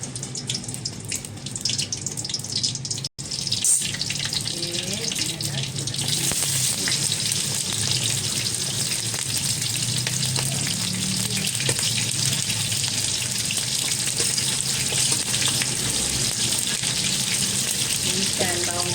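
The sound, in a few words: onions sautéing in a hot wok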